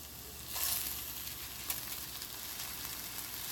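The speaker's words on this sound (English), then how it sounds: "Now I'm going to add in my washed rice to it." Washed rice hits a hot pot with turmeric, a soft burst of sizzling that settles into a steady quiet hiss, with a brief scrape of stirring; faint and close, no talking.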